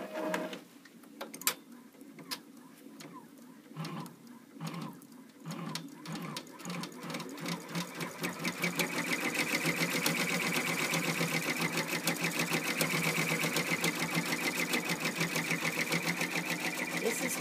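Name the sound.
Brother PR1000e embroidery machine stitching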